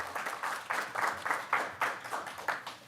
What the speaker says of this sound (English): And again, one more round of applause.